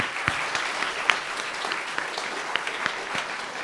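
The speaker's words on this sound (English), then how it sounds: "please, a round of applause to all of our family and friends" Concert audience at a music festival applauding family and friends, steady moderate clapping from a crowd with distinct individual claps standing out, no talking.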